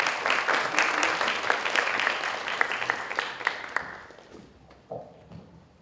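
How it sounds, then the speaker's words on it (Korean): An audience at a Gangwon studies conference applauds after a special lecture, a dense round of clapping that thins out into a few scattered claps and fades to near quiet. "아주 열정적으로 특별 강연을 해주신 이기범 선생님께 다시 한번 박수 부탁드립니다"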